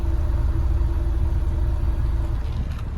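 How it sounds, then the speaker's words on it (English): Low, even stock-exhaust burble of an idling 2016 Ford Mustang convertible close up, a smooth continuous rumble that stays quiet and steady without speech. "stock exhaust, nice and quiet"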